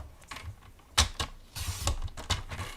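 Floral envelope paper sliced on a paper trimmer, heard as several sharp clicks and short scraping cuts in quick succession, close and fairly quiet, with no voice.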